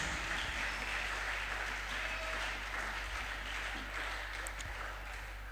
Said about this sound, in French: Acclamez pour le Seigneur notre Dieu.